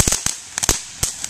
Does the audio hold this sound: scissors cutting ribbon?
no